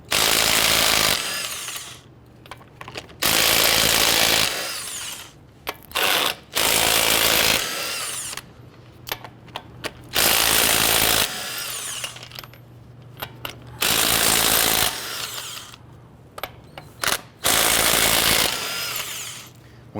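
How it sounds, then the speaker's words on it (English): Power tool with a 22mm socket loosening and removing lug nuts on a 2007-2014 Cadillac Escalade wheel: repeated loud bursts of whirring, separated by short pauses and small clinks between bursts. "Using a 22mm socket, go ahead and loosen and remove all of your lug nuts."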